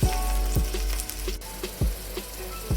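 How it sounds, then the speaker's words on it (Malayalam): Onion and tomato sauté in a hot pan for chicken vindaloo with a steady close sizzle, punctuated by several sharp scraping stirs at irregular intervals and no voices. "ഉള്ളിയും തക്കാളിയും കൂടെ നന്നായിട്ടൊന്ന് വഴന്ന് കിട്ടാൻ വേണ്ടി വെയിറ്റ് ചെയ്യണം."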